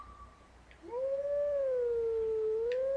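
A single long wolf howl in a video game, rising then gliding up and down in a tune-like contour, clear and sustained over a quiet background after a brief soft yip.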